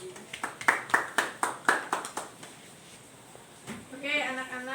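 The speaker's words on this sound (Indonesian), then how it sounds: "tepuk tangan untuk Kak Kavi" A classroom of fifth-grade primary school children claps for a student in a steady run of about a dozen sharp, rhythmic claps. It stops after roughly two seconds, and a teacher's voice follows.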